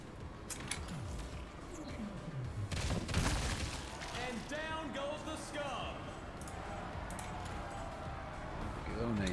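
Gunfire from a character shooting in the Homicidal All-Stars video game, a rapid crackling burst in the middle of a busy, dense game soundtrack.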